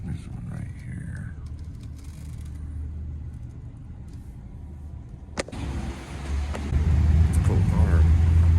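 A car engine idles and rumbles close by beside light roadway traffic, with a brief sharp knock near the middle, then the low engine drone grows louder and steadier toward the end; no voices are audible.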